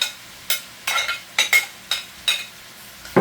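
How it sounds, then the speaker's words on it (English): Rice with peas and broccoli being stir fried in a pan, with about seven sharp scraping and clinking strokes of a utensil against the pan in an irregular rhythm, close and fairly loud over a faint sizzle. "And I'm just going to stir fry this together for a few minutes"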